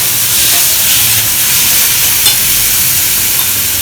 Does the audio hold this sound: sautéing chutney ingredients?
yes